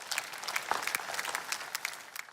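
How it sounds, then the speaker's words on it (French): Steady applause from a crowd, dense rapid clapping filling the whole stretch at moderate loudness, with no voices on top. "Applaudissez pour elle."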